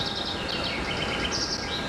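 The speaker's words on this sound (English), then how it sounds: "Sure, there's a lot of birds around the airport." Birds chirp and tweet steadily around an airport in a flight simulator's ambient soundscape, forming a continuous high twittering over a broad background hiss.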